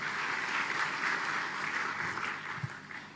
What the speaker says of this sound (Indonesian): beri tepuk tangan untuk PT Natural Nusantara beserta staf